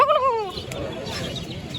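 A rooster at Pallavaram market gives one short, wavering call near the start, then busy market murmur carries on underneath.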